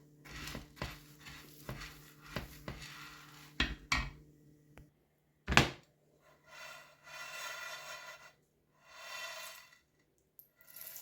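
Dry fruits dry-roasting in a pan for laddu are stirred, giving scattered crackles and scraping rubs. Sharp taps come early, then softer swishing bursts, all quiet and close.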